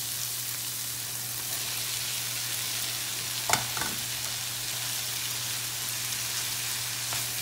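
Bitter gourd (ampalaya) sautéing with shrimp in a pan, a steady close sizzle with a brief clatter of stirring midway and a low hum beneath.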